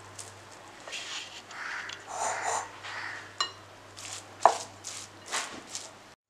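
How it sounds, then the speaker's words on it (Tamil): Hands squish and mix a thick spinach and lentil vada batter in a bowl, giving soft, wet, irregular pats and squelches at close range with a faint steady hum behind. "இதை நம்ம கலக்கிடலாம். கலக்கிட்டு காட்டுறேன்."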